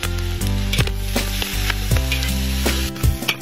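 Pig skin strips frying in a pan with soy sauce added, giving a steady, close sizzle with clattering stirring knocks throughout and no voices.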